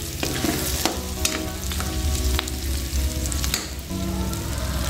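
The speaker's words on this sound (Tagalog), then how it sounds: "Inuuna ko po na ginigisa yung karne" Meat sautéing in a pan sizzles loudly and continuously, with clattering stirs and scrapes of a utensil breaking through now and then; no one speaks.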